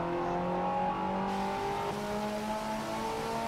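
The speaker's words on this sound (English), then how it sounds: "But this car does sound amazing." Race car engine in Forza Motorsport 7 holding a steady, high whining rev, then shifting gear and climbing again, loud and continuous with no voices over it.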